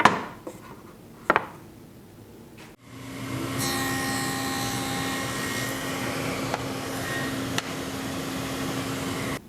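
Table saw with a dado blade spinning up and cutting an angled notch in wood, a steady loud whine with a sharp start after a few quiet clicks, running continuously to the end.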